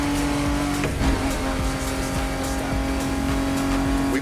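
The engine of a Ford Bronco in The Crew Motorfest, driven on Oahu, holds a steady, droning hum throughout with a faint rumble of road noise beneath it.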